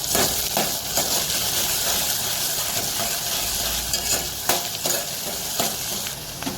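Onion and tomato sauté in a pan for a mung bean masala, a continuous close sizzle with scraping stir strokes and occasional spoon knocks against the pan, no talking.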